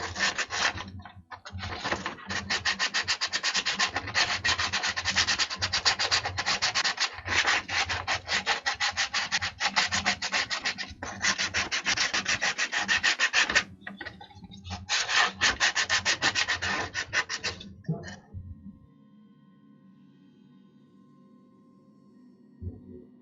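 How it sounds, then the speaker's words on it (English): Sandpaper rubs briskly over carved wooden penguin figures in long, even back-and-forth strokes, loud and close, broken by a few short pauses before the scraping stops and a low hum remains. "More like you're just kind of polishing your wood at this point."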